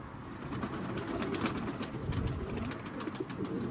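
Pigeons in an office loft coop coo in low, soft repeated murmurs, faint and close, over a steady background hiss with scattered rustling.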